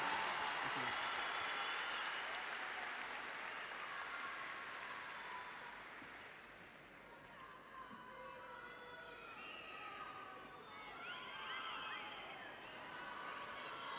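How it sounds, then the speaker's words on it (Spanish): A large concert audience applauding at an arena show, a loud dense wash of clapping that gradually fades and then swells again with scattered cheers. "Más fuerte el aplauso para Lucho"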